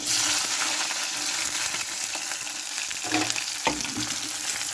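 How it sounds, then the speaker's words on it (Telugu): Onions for Hyderabadi green chicken fry in hot oil with a constant close sizzle and a few scraping stirs, with no voices. "ఇప్పుడు ఆనియన్స్ వేసుకుంటున్నాను"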